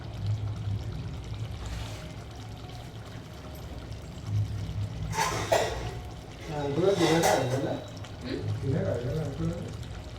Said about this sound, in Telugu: ఇప్పుడైతే వాటర్ వేసేస్తున్నాం.